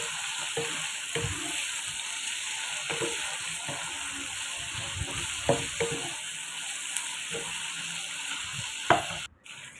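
Crab and squid being stirred in a frying pan with oyster sauce and chili sauce, a steady sizzle running throughout with soft intermittent scraping knocks of the utensil against the pan, close up with no talking.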